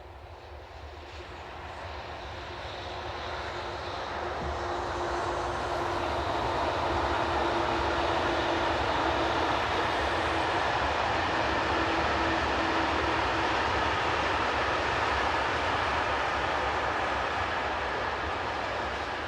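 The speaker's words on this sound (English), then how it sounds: "Heading east is BB 26000 electric number 26106, seen just after 6 p.m." SNCF BB 26000 electric locomotive number 26106 passes heading east in the early evening, a broad rumbling roar that swells over several seconds and then holds steady and loud.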